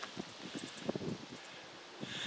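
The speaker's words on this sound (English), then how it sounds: "It's getting real windy up here" Wind gusts rush and rustle outdoors on a hilltop in the Arizona desert, with broadband buffeting and a few soft thumps, growing stronger toward the end.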